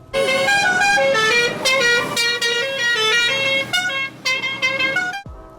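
A tour bus horn plays a loud, musical run of honks, with several pitched blasts in a row and short gaps between them, sounding close before it cuts off.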